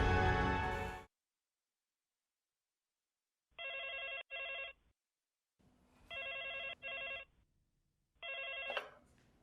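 A telephone rings in three distinct double-ring bursts, evenly spaced and clear, in an otherwise quiet room after a brief loud sound at the start.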